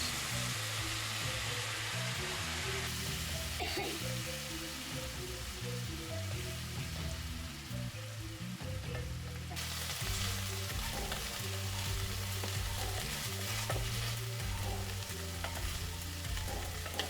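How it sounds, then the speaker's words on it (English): Pork tenderloin cooking in a skillet with canned chipotle sauce while it is stirred and reduced, a constant loud sizzle with periodic scraping stirs throughout, no voices. "give it all a good mix until the sauce reduces"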